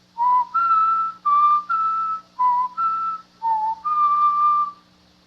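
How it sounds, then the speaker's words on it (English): A person whistles a short melodic theme of eight notes in a radio mystery drama, phrased in clear separate bursts with brief gaps, close and clean with no talking. "Let me see if I can whistle those notes written in the musical theme."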